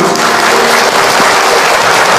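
A seated audience at an Islamic lecture on backbiting breaks into dense, loud applause, a steady wash of many hands clapping close by throughout.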